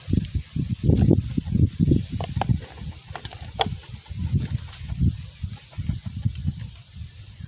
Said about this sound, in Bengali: বাতাস করতেছে